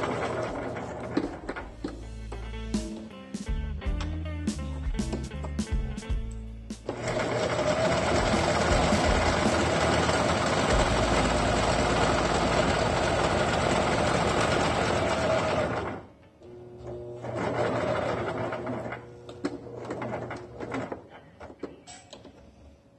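A sewing machine stitches a pleated medical-style fabric mask, running in short bursts at first, then in a long steady whir, stopping, and starting again for another run, close and loud.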